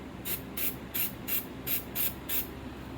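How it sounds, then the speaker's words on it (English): A spray paint can hisses in six short, evenly spaced bursts, each a sharp airy spray close to the microphone. "I'm going to spray a line up and down"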